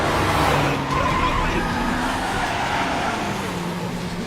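A jeep's tires skid and squeal as it pulls away in a tense horror-film escape, a loud, continuous screech with engine roar lasting several seconds.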